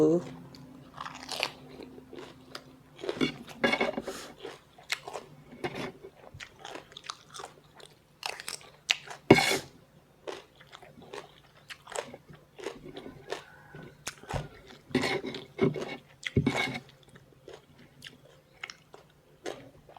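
Crunchy snack being bitten and chewed by someone eating with spicy papaya salad, close crisp crunches in irregular bursts, with someone talking between bites.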